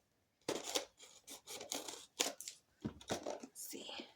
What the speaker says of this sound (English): I'm going to cut them open.